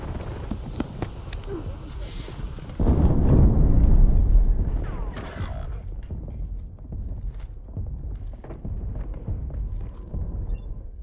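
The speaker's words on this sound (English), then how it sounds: "Hostile airstrike incoming." Airstrike explosions in the video game Call of Duty Warzone boom out as a loud, low rumbling blast that swells and lingers for a couple of seconds, set against ongoing gunfire, footsteps and game noise.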